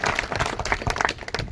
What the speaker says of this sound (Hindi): जोर सां ताली वॼाए करे भारतीय सिंधु सभा खां ताली वॼाए।